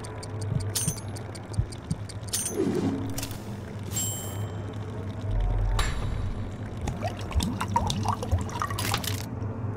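Water pours into a tank in the Trivia Murder Party 2 video game, a steady liquid rush and gurgle over looping game music, with a deeper surge of filling midway and scattered small effect sounds.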